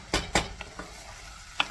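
A tofu scramble cooks in a pan with a steady low sizzle, broken by a few sharp scrapes and knocks of a utensil stirring against the pan. Two strong strokes come near the start and another near the end.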